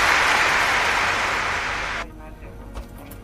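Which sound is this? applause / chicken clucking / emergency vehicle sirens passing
applause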